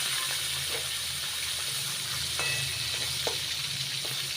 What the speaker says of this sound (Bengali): গরম হয়ে যাবে তখন একটা একটা করে মাছ দিয়ে ভাজবো।